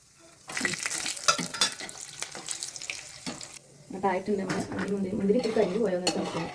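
Cashews and raisins going into hot oil for a chicken biryani bring clattering utensil knocks and splashy sizzling, with bursts of hissing and scraping that grow busier toward the end.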